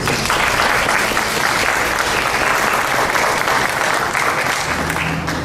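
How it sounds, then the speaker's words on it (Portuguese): An audience at a Bible institute class gives a long round of applause, a thick, steady wash of clapping at constant loudness throughout. "Uma salva de palmas para vocês."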